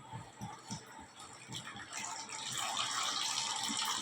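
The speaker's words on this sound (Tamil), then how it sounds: "புளியை கரைச்சி வடிகட்டி ஊற்றிடணும்." Strained tamarind water pours into a pot of simmering fish curry, a soft liquid splash and gush that grows steadier and fuller toward the end over faint background noise.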